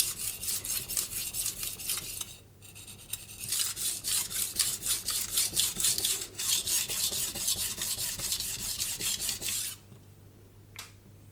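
A knife is sharpened on a fine 8000 grit Kitayama whetstone, rhythmic rasping strokes scraping back and forth close up in repeated passes, with brief pauses, ending in quieter handling noise; no one speaks.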